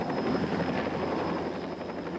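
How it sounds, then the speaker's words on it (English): A military helicopter flies over the mountains during a search for missing campers, its steady rotor thump and engine roar filling the whole clip at an even, fairly close level. "Military helicopters scoured the mountains looking for any sign of the remaining campers."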